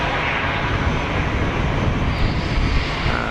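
An Air Malta Airbus A320 comes in to land at Geneva Airport, a steady, dense roar of jet engines mixed with rushing wind, constant and fairly loud throughout.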